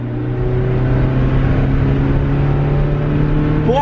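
A car engine labours at steady revs through corners on worn, poor-grip tyres, a loud continuous drone with strong harmonic bands close up, rising slightly in pitch at the very end.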